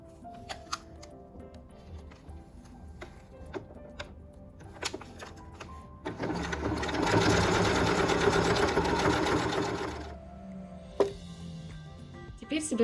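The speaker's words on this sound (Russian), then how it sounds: "И как обычно прокладываем вот здесь строчку." Sewing machine stitching a garter belt: scattered clicks and handling at first, then a fast whirring run of stitching for about four seconds, then more clicks, with a voice speaking at times.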